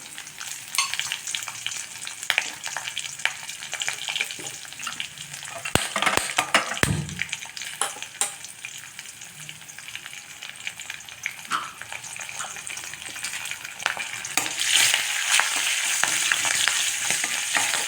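Slit green chillies fry in a pan for jeera rice with cumin and curry leaves, a continuous crackling sizzle with stirring scrapes and a couple of sharp utensil knocks, growing louder toward the end.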